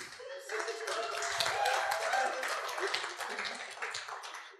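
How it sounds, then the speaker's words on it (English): A church congregation claps for a preacher named Chris at a spiritual warfare service, a steady dense round of applause that fills the room, with voices talking faintly underneath. "Clap for Chris."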